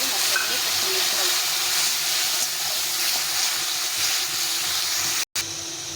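Spice paste and peas fry in a pan with a splash of water, a loud, steady steamy hiss and sizzle that runs nearly unbroken, close up, with a brief dropout near the end.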